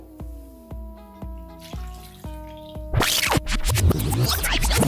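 Water poured and mixed into flour: a series of clinking taps first, then a loud, close, sustained splash and scraping stir as liquid is poured and worked into the flour.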